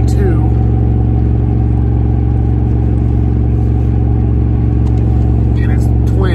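A truck engine idles steadily on a freezing 20-degree morning with frost on the windshield, a loud, constant low rumble throughout with faint clatter and no break in the drone.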